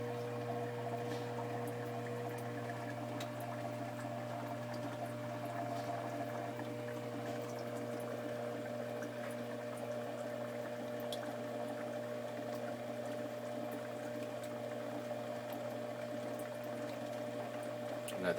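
A Bosch dishwasher that isn't advancing to its wash cycle hums steadily as it fills, a constant pump drone with faint trickling water and no break.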